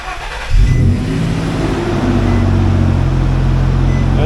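A Nissan Xterra with a broken transfer case starts up. A short crank catches into a loud, close engine that settles into a steady idle and then swells slightly as it runs.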